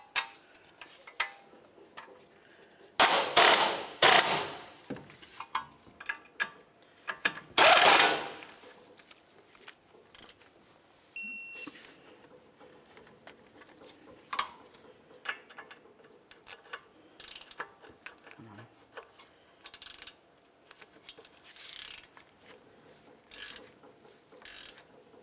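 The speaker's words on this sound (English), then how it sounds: "We'll start in both of our bolts, we'll snug them up, and then we're going to torque these to 80 foot-pounds." Ratcheting wrench snugging and torquing brake caliper bolts on a 1999-2003 Toyota Solara front hub, with bursts of rapid clicking separated by pauses and scattered metallic taps, close up.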